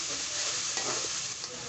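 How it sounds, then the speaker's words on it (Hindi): Ginger garlic paste frying for aloo gosht, a steady loud sizzle of hot oil with faint stirring scrapes, close up and continuous with no voices. "और 1 मिनट के लिए इसको फ्राई करेंगे।"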